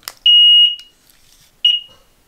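A Yale smart alarm keypad beeps while its arming timer counts down: one long, loud, high electronic beep, then a short second beep after a pause, close by in a quiet room.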